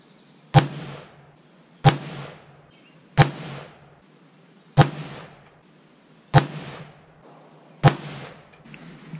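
Six sharp rifle shots from an AR-pattern rifle chambered in 7.62x39 ring out at the range, each a loud crack with a decaying echo, evenly spaced over about nine seconds.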